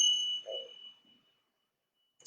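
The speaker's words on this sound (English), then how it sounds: "Second chime." A single meditation chime strikes and rings with a clear, sustained tone that slowly fades into silence, with a brief soft sound at the very end.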